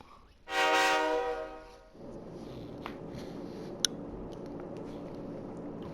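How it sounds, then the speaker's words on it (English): Passenger train in the Persona 3 Portable video game: a loud horn blast sounds close at first, then gives way to a steady rolling rumble of the moving train with a faint clank. "Inside the New City passenger train,"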